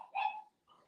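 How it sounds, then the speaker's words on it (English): A dog barks once in the background of an indoor room, a short, mid-pitched yap followed by a softer whimpering tail, heard alone without any talking. "sorry for the dog in the background."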